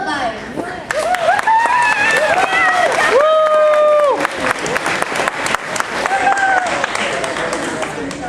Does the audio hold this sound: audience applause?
yes